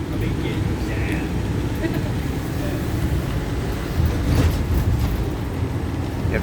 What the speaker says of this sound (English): The train comes to stop,